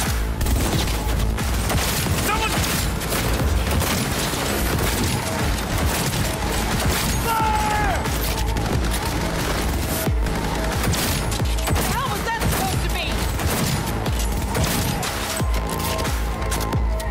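Dense, continuous gunfire from a shootout in the video game Cyberpunk, rapid overlapping shots and impacts crowding the whole stretch at a loud, even level with no pauses.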